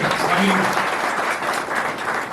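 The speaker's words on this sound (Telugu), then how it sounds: "గట్టిగా చప్పట్లు కొట్టండి" Audience applause at a political party meeting announcing minority cell appointments, a dense, continuous burst of many hands clapping, loud and sustained across the whole moment.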